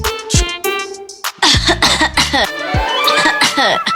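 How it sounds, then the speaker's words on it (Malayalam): A person coughs suddenly several times in harsh, throaty bursts, with other voices talking and exclaiming around the coughs. "അയ്യോ എന്താണ് ഇതിന്റെ തൊണ്ടയ്ക്കൊരു പെട്ടെന്നൊരു ചുമ"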